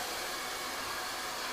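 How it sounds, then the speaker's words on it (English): A hair blow dryer runs on high during a long layered haircut, a steady, close, loud airy roar that holds unchanged throughout with no voices. "Always make sure your blow dryer is on high."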